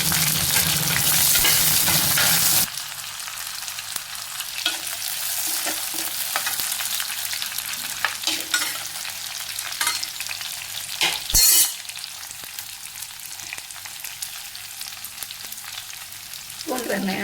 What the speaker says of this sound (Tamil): பூண்டு வெங்காயம் நல்லா வதங்கிடுச்சு.